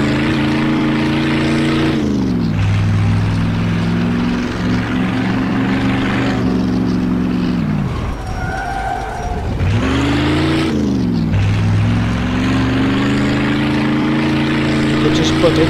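A powerful car engine in the video game Mafia II drones and revs while driving, rising and falling in pitch, with a brief dip as the throttle eases before surging again; a voice talks over it.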